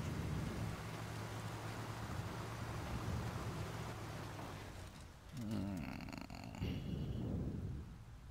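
Rain falls in the off-road truck game SnowRunner, a steady soft hiss over a low engine rumble, dipping briefly before returning with some distant thumps and a brief tonal warble.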